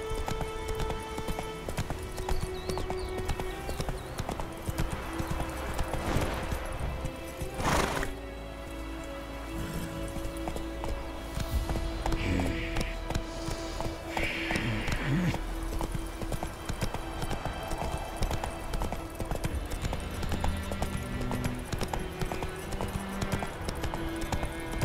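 Roach the horse gallops in The Witcher 3, hooves drumming in a continuous rhythm across the whole stretch, with occasional whinnies and rain-like ambience in the game world.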